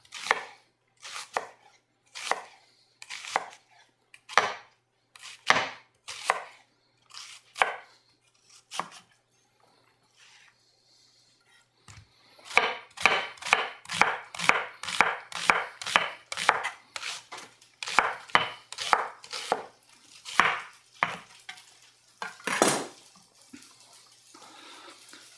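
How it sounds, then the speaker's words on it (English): A knife thinly slicing an onion on a cutting board, crisp taps on the wood: evenly spaced strokes at first, then a pause, then a faster, denser run of cuts, close and clear with no talk. "I have an onion. We'll do some thin slices."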